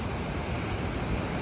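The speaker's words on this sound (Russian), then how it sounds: "Теплый Атлантический океан." Waves breaking on an Atlantic beach in San Juan, Puerto Rico, a brief, even roar of surf mixed with wind buffeting the microphone, steady and loud, with no one speaking.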